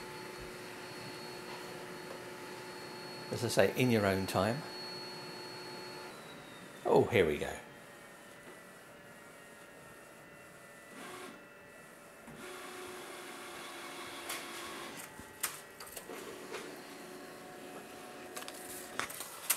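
An Epson SC-P5300 pigment ink printer loads paper and prints, with two loud mechanical whirring bursts followed by quieter clicks and steady humming, while someone talks over it intermittently.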